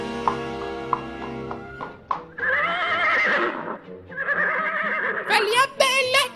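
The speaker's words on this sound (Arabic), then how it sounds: "ده حصان الملك." Horse neighing as a sound effect in a children's church stage play, with a few hollow clip-clop hoof knocks first, then two long loud whinnies, the second ending in sharp high bursts, under reverberant hall ambience.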